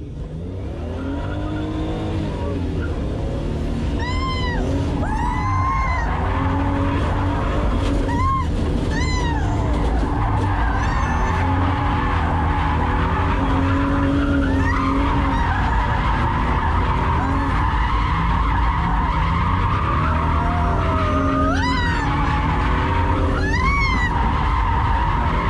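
Toyota Soarer drifting with its tires skidding and squealing in long sweeping screeches over a loud, continuous engine roar that rises and falls, close and sustained throughout.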